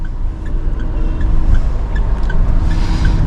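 A car pulls away in first gear on a slow half-clutch release, its engine note rising steadily up close with no voices over it.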